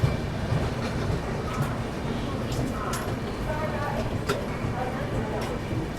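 The Yuva Superfast Express, running with new LHB coaches, pulls out of Mathura Junction. A steady close rumble of rolling wheels carries faint clicks and a few brief squeaks.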